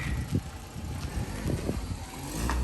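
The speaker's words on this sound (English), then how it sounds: "my girlfriend who's just parking her car" A car being parked close by gives a low, steady engine rumble with soft mechanical noise, fairly quiet and continuous throughout, with no one talking.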